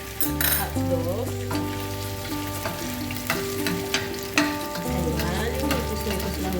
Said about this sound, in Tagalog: ikus-ikus lang natin itong hotdog bago natin hanguin